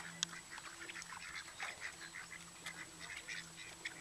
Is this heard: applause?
no